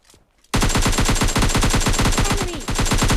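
A rapid, loud automatic gunfire spray in PUBG Mobile Lite starts abruptly after a brief quiet moment and rattles on in a fast, even rhythm of close shots without pause.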